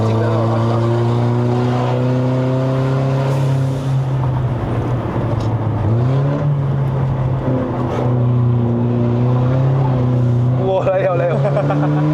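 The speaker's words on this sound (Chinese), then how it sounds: "哇，5500转， 哇，很有力的，很有冲劲的那种换挡。" A Mercedes-Benz E250 W212 AMG Line climbing a mountain road, its engine revving hard to high rpm with a droning tone, dipping briefly at gear changes before pulling again, heard from inside the cabin with a voice talking over it.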